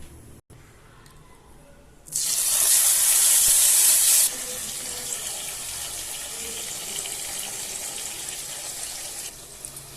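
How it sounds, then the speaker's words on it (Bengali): Water poured from a rinsing bowl into a kadai of fish cooking in oil splashes in loudly for about two seconds as a bright gush, then drops to a steadier, softer hiss of liquid that holds to the end. "এরপর আমি বাটি ধোয়া জলটা দিয়ে দিলাম।"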